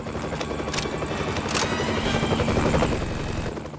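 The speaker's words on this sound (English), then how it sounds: "I'm gonna take out this helicopter." Helicopter in the video game Family Guy: Back to the Multiverse, a steady loud rotor thrum and engine whine running throughout amid game effects and music.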